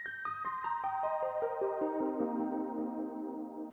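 A synth arpeggio of quick notes stepping down in pitch and layering into a sustained, shimmering tone, played alone at moderate volume.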